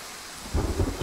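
A thunderstorm in the hunting game Way of the Hunter: steady rain hiss, then a low thunder rumble swells in partway through, loud and close.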